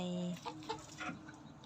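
Chickens in a rural village yard in Nong Khai, Thailand, give a string of short, clipped clucks at close range, irregular and moderately loud against a quiet outdoor background.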